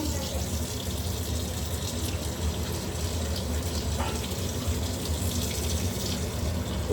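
Tap water runs steadily into a kitchen sink while half a kilo of raw chicken is washed, a constant close splashing gush that never lets up.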